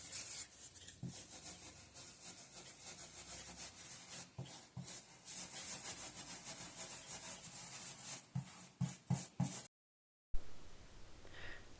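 Stiff bristle brush stenciling paint onto an unsealed wooden coffee table, giving steady close scrubbing and rubbing strokes with brief pauses, the dabbing getting choppier toward the end, no talking.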